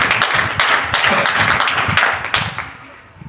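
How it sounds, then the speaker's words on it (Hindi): Students in a classroom clap together during a maths lesson, a loud, close burst of brisk hand claps that holds steady and then thins out toward the end. "इनके लिए भी ताली बजा दो।"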